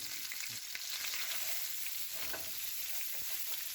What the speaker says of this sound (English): you put all your sliced kielbasa in there. You're going to want to get it all sorted out and even. And get a nice sear on that.